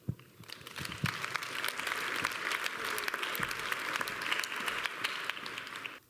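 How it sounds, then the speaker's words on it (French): An audience at a literary festival event applauds steadily for several seconds, with dense, even clapping that swells quickly and then stops abruptly at the end. "On vous applaudit."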